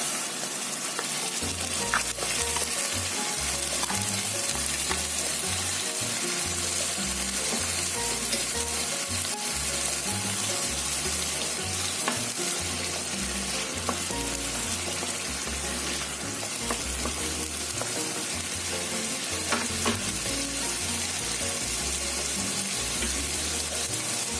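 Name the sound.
onion paste frying in pan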